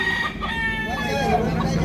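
A rooster crows loudly and close by at a chicken market in Tabunok, Talisay, Cebu, with other fowl and a low crowd murmur beneath.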